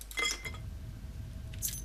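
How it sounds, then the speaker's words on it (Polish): In the video game Oblivion, a key and coins are picked up, giving a couple of brief, quiet metallic jingles over a low, steady background hum. "Tutaj jakiś kluczyk, oczywiście monety standardowo."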